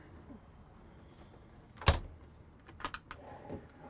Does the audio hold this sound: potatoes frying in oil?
no